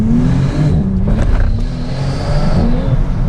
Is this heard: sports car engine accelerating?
yes